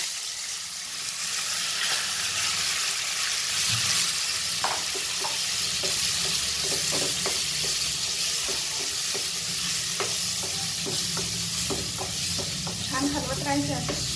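Papaya halwa frying in a pan with ghee, a steady sizzle running throughout as a utensil stirs it, with clustered scraping clicks growing busier toward the end.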